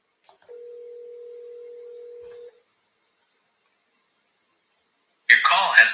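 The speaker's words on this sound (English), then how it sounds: "I'm calling this guy's mom." A telephone call is placed: a steady ringback tone sounds for about two seconds, then a long silence follows before a voice starts speaking at the end.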